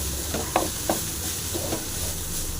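A spatula stirs murungai keerai poriyal, a drumstick-leaf stir-fry, in a hot pan: a steady close sizzle with a few soft scraping strokes across the pan.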